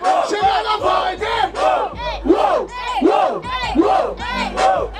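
Crowd at a hip hop rap battle semifinal shouting in rhythmic bursts, loud, near and chant-like, with repeated rising and falling yells and a low thumping beat underneath.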